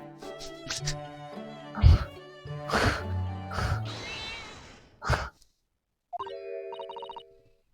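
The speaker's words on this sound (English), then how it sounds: "Oh, what was that? The cat." A cat meows in the video game The Great Ace Attorney Chronicles: a short, tonal, rising-and-falling call heard among soft game chimes and sighing effects, clear and close, with no talk over it.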